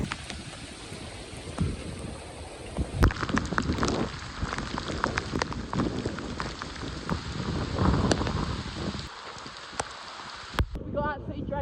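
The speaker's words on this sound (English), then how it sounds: "Started raining." Steady rain hisses and patters throughout an outdoor run, a dense wash of noise with irregular thumps like footfalls and splashes, ending in a brief rustle.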